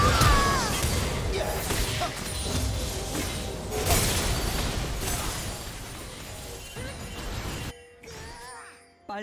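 A turret being destroyed in League of Legends, a loud crashing, shattering impact with whooshes and metallic clinks amid busy combat effects, fading to quieter chimes at the end.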